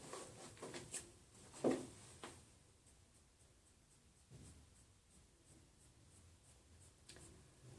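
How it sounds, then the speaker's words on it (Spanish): A dark brown Deli Plus eyeliner pencil drawn along the eyes and eyebrows. Faint, scratchy strokes with a few sharper taps early on, then quiet, soft rubbing in a still room. "Me voy a delinear los ojos,"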